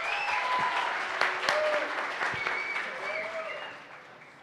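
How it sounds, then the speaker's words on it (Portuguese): A festival audience applauds a guest named Mussum with a sustained burst of clapping that gradually fades, while voices talk over it. "salva de palmas para o Mussum"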